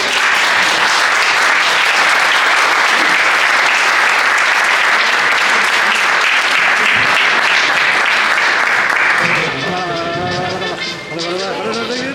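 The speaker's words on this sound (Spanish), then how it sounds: "si quieren aplaudir ahora, aplaudan" Audience at a talk in Argentina breaks into sustained, loud applause for about nine seconds before it fades and a voice takes over.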